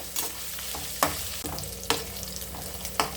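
Crushed ginger-garlic paste sautéing in a pan for mushroom biryani, a steady close sizzle broken by sharp spoon scrapes and stirring knocks about every second, with no voices.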